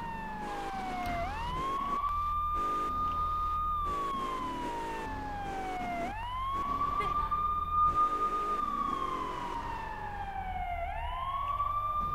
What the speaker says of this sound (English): Shouldn't you have to turn these sirens off?